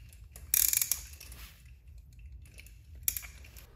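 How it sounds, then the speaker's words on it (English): A 14 mm wrench tightening caster lock nuts on a race seat frame, giving faint metallic ratcheting clicks and scrapes in two brief bursts with quiet gaps between. "I'm using a 14-millimeter wrench to tighten the lock nuts."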